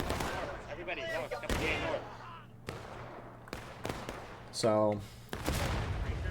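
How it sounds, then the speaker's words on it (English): In a multiplayer Civil War battle game, a Union artillery shell bursts close by amid gunfire. Several sharp, loud cracks and booms ring out over rumbling battle noise while someone speaks. "Union artillery hit close"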